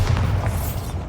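A spell blast from the Hogwarts Legacy video game sets off a short, heavy boom with a deep rumbling body that fades out over about a second.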